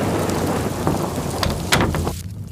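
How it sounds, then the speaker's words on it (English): Heavy rain hisses steadily with wind, and thunder cracks and rumbles close by, loud and continuous with no voices. "Have you ever seen a storm like this? Its baneful sounds, its noxious wind"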